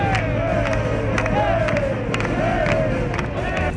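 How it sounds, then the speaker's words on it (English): A packed arena crowd roars loudly and continuously at a Wisconsin Badgers basketball game in Milwaukee, a dense wall of cheering and yelling with whistles and shouts rising through it. "I've never heard an arena that loud,"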